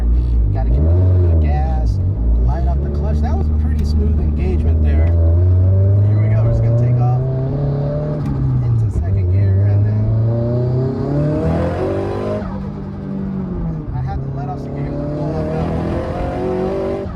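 A Nissan Silvia Spec R S15 engine revs and pulls away as the clutch engages, its tone rising and falling through the gears, loud and close, with a voice talking over it.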